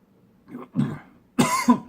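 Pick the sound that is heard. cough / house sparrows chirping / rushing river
cough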